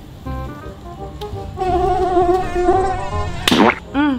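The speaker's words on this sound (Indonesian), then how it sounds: "Aduh, banyak nyamuk lagi." Mosquitoes buzzing at night near a tent, a close, loud whining drone that holds steady and rises in pitch, broken by a sharp slap-like burst near the end.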